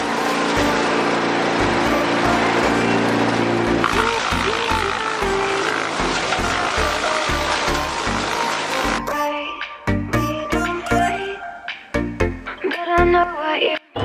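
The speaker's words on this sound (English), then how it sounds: "What I've got here is a rental wood chipper." A rental wood chipper rated for 6-inch branches runs loud and close, grinding steadily before breaking into choppy, sputtering bursts as material feeds through.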